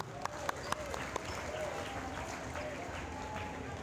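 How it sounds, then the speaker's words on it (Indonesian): An audience applauds a Saubagoa dance performance by the Kota Gunungsitoli contingent at an evening cultural arts show, with steady dense clapping, a few sharper claps near the start and voices underneath. "Sekali lagi kita berikan semangat, tepuk tangan yang meriah."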